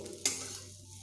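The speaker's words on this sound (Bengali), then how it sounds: "আমার আলুগুলো প্রায় ভাজা হয়ে গেছে" Potatoes deep-fry in oil with a steady hiss, and a spoon scraping or knocking once against the pan is heard close by.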